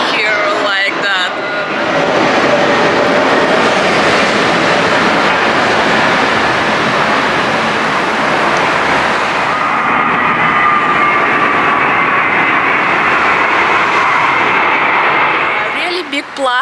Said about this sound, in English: This is airport near this guest house, and planes always flying here like that.